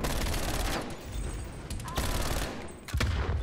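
Gunfire in Call of Duty Cold War with MAC-10 and shotgun use, a dense, loud stream of rapid shots and bursts that fills the whole stretch with little pause, with a voice faintly beneath.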